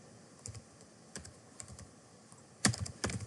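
Clicky keystrokes on a computer keyboard come in scattered single taps, then a quicker, louder burst of typing at the end, close to the microphone with no talking.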